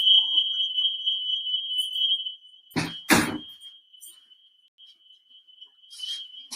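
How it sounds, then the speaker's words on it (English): An indoor fire alarm gives a steady high electronic tone that runs nearly unbroken through the room, briefly joined by a couple of loud bangs, like a door being shut, before the alarm carries on. "excuse the fire alarm, I'm going to shut my door."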